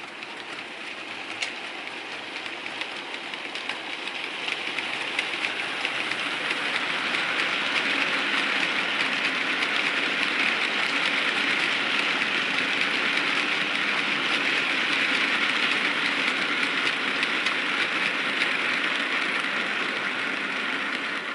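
A model railway train pulls a long rake of mixed-livery wagons, producing a continuous close whirring rumble with a faint ticking texture that builds over the first few seconds and then holds steady.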